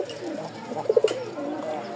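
Lotan pigeons give a brief low cooing burst of three quick notes, close by, amid faint background murmur and soft rustling in a pigeon sale pen.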